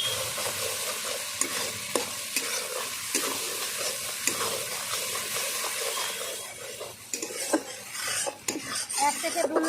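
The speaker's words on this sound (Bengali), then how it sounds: "ভালো করে আমি কষিয়ে নেব সব একসঙ্গে" Spices with chili powder being stirred and fried together in a pan for a cabbage and katla fish head dish, a steady close sizzle with spoon scraping and clinks against the metal throughout, no talking.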